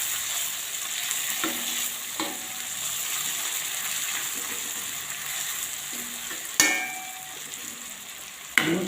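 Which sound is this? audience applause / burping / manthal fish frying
manthal fish frying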